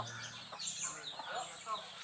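Free-range chickens on a farm cluck and chirp in scattered, soft calls while being fed, fairly close, with faint rustling and background noise.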